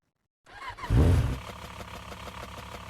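A motorcycle engine in the video game Lanesplit starts up with a rumbling surge and then settles into a steady idle, close and moderately loud, with no talking.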